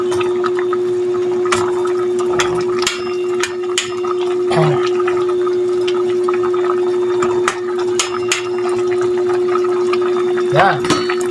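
A fish dish boiling in a covered pot gives off a steady bubbling churn over a constant low hum, with occasional voices in the background.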